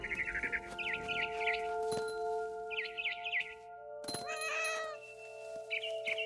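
A cat in What Remains of Edith Finch gives a drawn-out yowling meow midway. Chirping birds, a steady tonal hum and small clinks surround it.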